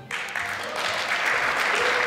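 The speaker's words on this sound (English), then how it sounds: "Why are these people all clapping?" A large audience claps at a Joe Biden speech, dense, sustained applause that starts abruptly and fills the room, loud and steady throughout.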